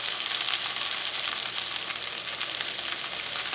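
Okra sizzles steadily as it fries in hot oil, a dense, continuous crackle that holds at an even, close level throughout with no voices.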